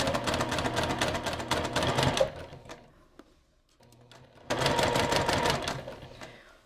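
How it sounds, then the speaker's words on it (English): A sewing machine stitching around the whole edge of fabric for an Easter sewing project, a rapid close mechanical whir that runs, pauses briefly with small clicks, then starts up again. "I'm just going to sew around the whole edge"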